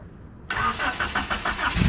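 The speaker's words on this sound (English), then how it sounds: "Listen to the idle. It's not choppy or anything" A 1989 Honda Civic Si hatchback barn find fires up after a brief silence and settles into a smooth, even idle, the engine close by with a faint pulsing rhythm.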